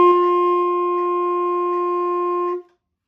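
A single steady saxophone note, a D, is held for over two seconds at even volume, then cut off cleanly into silence.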